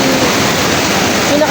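River water rushing with strong pressure on a river trek, a loud, steady, broad roar close by, unbroken for the whole moment.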